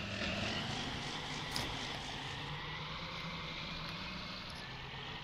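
A John Deere 4440 tractor engine idles steadily in Farming Simulator 19, a continuous low diesel rumble with broad noisy hiss, quiet and unchanging throughout with no talking.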